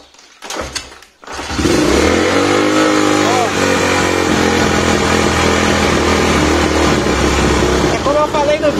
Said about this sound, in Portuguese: A moto, ela liga acelerada e vai caindo.